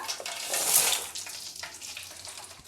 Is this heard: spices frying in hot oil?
yes